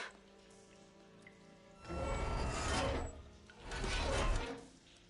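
Water leaking from a pipe in the game Horizon, two rushing surges of spraying water with a quiet lull between them, moderately loud and close.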